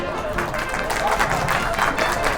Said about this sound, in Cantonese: 亦都係請掌聲歡迎羅琳。